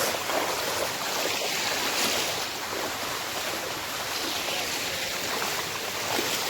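Fast-flowing monsoon stream water rushes in a steady, loud, broadband roar that holds evenly without pause, with no clear voices over it.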